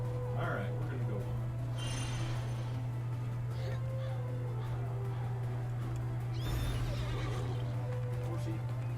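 A horse neighs in a short whinny near the start and again later, set over a constant low hum during a fantasy tabletop role-playing game session, with faint voices around it.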